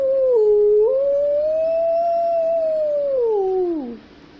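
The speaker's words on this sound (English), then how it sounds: "So fox howls." A fox gives one long, clear howl, a sustained wavering tone that rises, holds, then falls away, close and loud over faint background.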